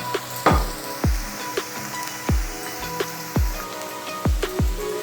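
Onions browning in oil in a pan for chicken curry give a steady sizzle, broken by a series of sharp, thudding knocks and scrapes roughly every half second to second, close and moderately loud.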